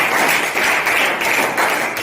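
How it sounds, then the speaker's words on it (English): A classroom of students applauds a classmate, a close, continuous patter of many hands clapping at an even level with slight pulsing. "Claps go for Pranali"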